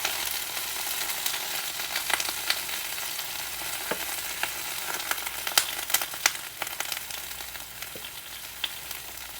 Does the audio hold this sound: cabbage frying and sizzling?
yes